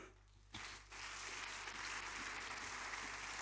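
A church congregation breaks into applause during a sermon. After a brief quieter moment, dense clapping starts abruptly and continues steadily at moderate distance.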